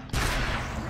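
Gunfire from the video game Gears of War bursts out abruptly as a loud, dense, sustained blast lasting under a second.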